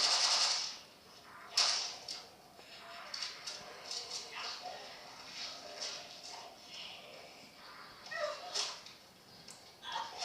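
Zombie dogs in PUBG Mobile zombie mode, snarling and yelping in scattered bursts over steady game noise, with a few sharper cries standing out and speech faintly underneath.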